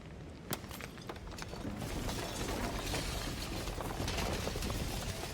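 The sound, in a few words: shattering sound in video game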